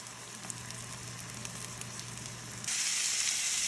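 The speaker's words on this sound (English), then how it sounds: "So let's fry this sausage up and then get this cabbage and onions in the skillet." Sausage frying in a skillet gives a steady, close sizzle and crackle, with a low hum under it. The hiss gets suddenly louder and brighter near the end. No one speaks.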